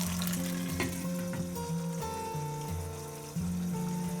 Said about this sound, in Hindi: टमाटर की पेस्ट को हम मीडियम फ्लेम पे थोड़ी देर पका लेंगे